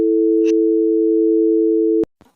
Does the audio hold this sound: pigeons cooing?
no